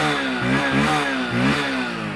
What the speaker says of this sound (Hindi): अब मैं थ्रॉटल देता हूँ